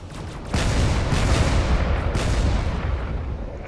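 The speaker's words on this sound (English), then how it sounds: "that was a massive torpedo strike right to the rear of the ship" A torpedo strike explodes against the rear of a ship in a video game: a sudden loud blast erupts and swells into a sustained roaring rumble, with a second burst partway through, up close and without talk.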